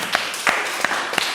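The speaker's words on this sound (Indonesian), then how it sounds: "tepuk tangan dulu" Brief scattered claps from a small classroom group at a teacher-training presentation in Ambon, a few separate hand claps spread over a second or so, moderately near with room noise between them.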